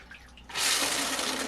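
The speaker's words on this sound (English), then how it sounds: "And, hey, I do have the shower head right here." Water bursts from a shower head after a brief quiet moment, then keeps spraying in a steady, close, hissing stream with no voices.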